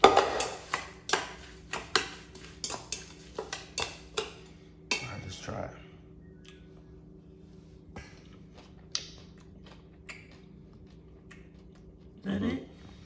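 Purple cabbage slaw is mixed in a bowl with a utensil, producing a steady run of light clinks and scrapes, about one every half second, that fade out partway before a final rustle.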